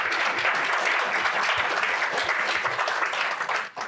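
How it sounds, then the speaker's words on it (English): Dense, steady applause from a conference audience for a panel discussing AI, many hands clapping together at close range and fading slightly at the end. "Can we give our panel a round of applause?"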